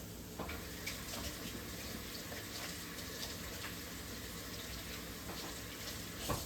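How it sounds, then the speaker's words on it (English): Tap water runs steadily into a kitchen sink as hands are washed, a continuous close hiss and splash with slight shifts in flow and no talking. "Let me wash my hands."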